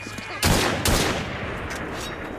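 Video game gunfire, two loud close shots in quick succession followed by a decaying echo and faint background noise.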